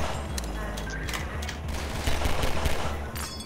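Rapid gunfire bursts and sharp shots crackle during close combat in the video game Half-Life 2: Episode Two, dense and continuous with occasional louder impacts.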